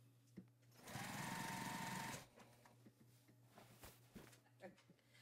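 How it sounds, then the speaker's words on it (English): Sewing machine stitching binding around a quilt, a close, steady whirring run of about a second that stops abruptly, followed by quiet handling noises and soft knocks. "So I'll start sewing all the way around the quilt"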